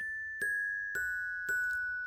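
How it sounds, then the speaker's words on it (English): Bell hits in a music beat ring out three times at an even pace, each a bright struck chime with a sustained tone that carries on between strikes. "this part right here, which is the bells"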